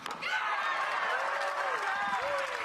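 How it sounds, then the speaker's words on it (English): A crowd applauds after a point in a mixed doubles pickleball match at an outdoor tournament, a dense, steady patter of clapping throughout, with whistling and cheering voices mixed in. "I can't help but clap sometimes, and that point deserved it."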